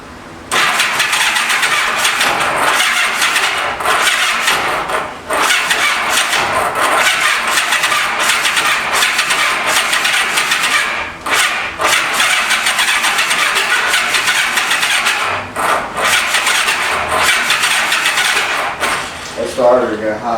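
Starter on a 1985 Honda Gold Wing 1200cc motorcycle cranking over and over without the engine catching, a loud, close, rapid churning that continues for about twenty seconds with only brief breaks, while stale old fuel keeps it from firing.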